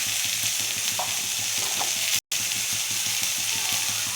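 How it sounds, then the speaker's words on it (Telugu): Cut raw mango pieces fry in a pan with a loud, continuous close sizzle broken by rhythmic stirring scrapes, and one very brief dropout midway. "ఇప్పుడేమో కట్ చేస్తున్న మామిడికాయలు వేసుకుందాం. కొంచెం ఫ్రై చేసుకొని"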